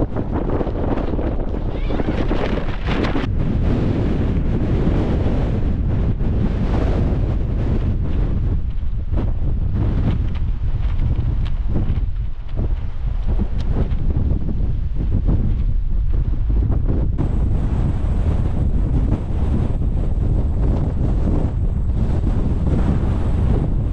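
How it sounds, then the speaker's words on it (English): Strong, relentless wind batters a Hilleberg Soulo tent during solo wild camping in the Lake District, a loud, continuous roar of gusts and flapping fabric that runs unbroken the whole time. "Just get out of the wind."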